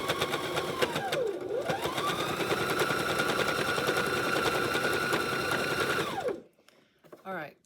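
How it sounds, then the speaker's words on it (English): A sewing machine stitches quilt binding and back stitches, running fast and steady at close range for about six seconds before stopping, followed by a few brief clicks. "I sewed a little bit down to back stitch"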